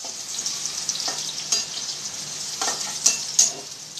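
Garlic, onion and other aromatics sauté in hot palm oil for a Filipino buko soup with malunggay, giving a soft, steady sizzle with a few sharp pops and light stirring clicks.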